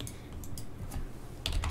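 Quick light taps on a computer keyboard come in short irregular bursts, close but quiet, ending with a slightly louder flurry of keystrokes and no talking.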